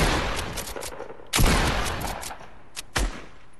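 Two loud, close shotgun blasts from a pump shotgun in the video game Fortnite, about a second and a half apart, each with a sharp crack and a short ringing tail over a busy game soundscape.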